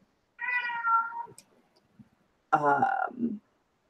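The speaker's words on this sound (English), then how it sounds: "If you guys hear a cat crying, that is Mr. Crowley trying to convince my h" A cat meows twice, close and clear, each cry long and drawn out, with a short quiet gap between them.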